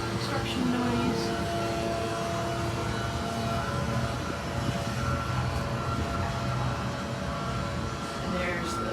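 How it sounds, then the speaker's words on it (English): Constant construction noise at a beachfront resort in Nuevo Vallarta, Mexico, a loud steady mechanical drone and rumble filling the air throughout, with a person's voice faintly under it. "as you can hear, there is ridiculous amounts of construction noise"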